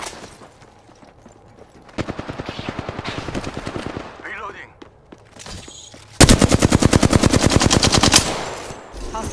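Rapid automatic gunfire in the Apex Legends video game, with two long bursts of loud, evenly spaced shots separated by quieter shooting and a short gap.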